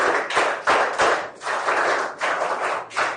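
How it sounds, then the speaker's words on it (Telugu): Audience clapping to congratulate a ranked student at a government event in Rampachodavaram, several bursts of applause with short pauses, fairly close and loud, no talk. "గట్టిగా చప్పట్లు కొట్టి అభినందించండి."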